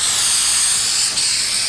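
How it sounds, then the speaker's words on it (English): Aerosol can of Mod Podge spray sealer hissing steadily as it is sprayed along lines on a wooden sign, close and loud, one continuous burst with a brief dip near the end. "Now I'm going to spray along the lines."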